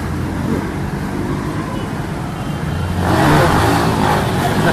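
A Rusi Classic 250 motorcycle with an ignition problem rides off on a test drive, its engine rumbling and then revving louder near the end amid surrounding road noise.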